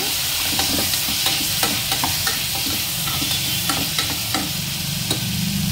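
Amaranth greens frying and being stirred in a pan, a steady loud sizzle with repeated scraping strokes of the spoon throughout, no voices.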